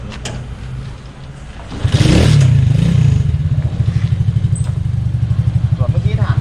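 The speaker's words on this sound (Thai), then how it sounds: "แล้วกรณีแบตหมด สตาร์ทมือไม่ติด สตาร์ทเท้าได้ครับ" A motorized three-wheeler is kick-started, its engine catching after a short clatter and settling into a loud, rapid, pulsing idle with slight revving, heard close.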